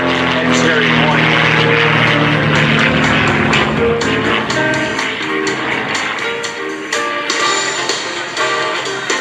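A 1940s-era propeller fighter flies an air show display at MCAS Cherry Point, its loud engine drone droning continuously and shifting in pitch as it passes, with talk running over it.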